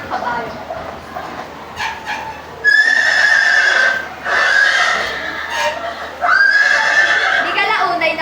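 Horses whinny loudly and repeatedly in shrill bursts, with a dog-like bark and faint hoof clatter under a narrated voice.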